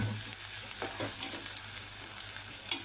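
Onion frying in a pan for a dhaba-style whole masoor dish, a soft, steady sizzle with a few light stirring scrapes and a low background hum.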